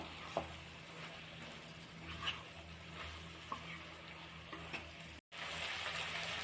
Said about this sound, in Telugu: వీటన్నిటిని బాగా కలిసేలాగా ఒకసారి అయితే మిక్స్ చేసేసుకుందాం